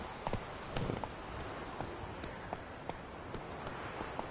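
Horse hooves clip-clopping at a steady run in The Witcher 3, a regular train of sharp hoof strikes over a constant ambient bed, no talking.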